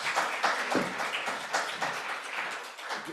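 Applause from a conference audience at a Club of Rome session, steady mid-level clapping with uneven bursts that carries on evenly throughout.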